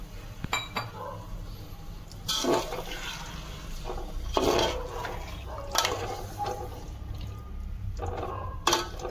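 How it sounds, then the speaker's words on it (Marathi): Water poured into a pan of fried chicken for biryani, a steady splashing pour with clinks of utensils against the pot and a few sharper clatters along the way. "तर हे आपण थोडं पाणी घालूया याचं."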